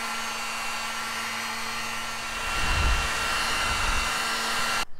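A heat gun blows with a steady, close whir during wiring work on an FJ40 Holley Sniper install, and a lower rumble joins partway through before it cuts off near the end.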